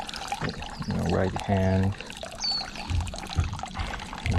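Water scooped from a temple purification basin and poured over hands, a short splashing pour heard up close while a person speaks in the foreground, followed by light trickling and drips.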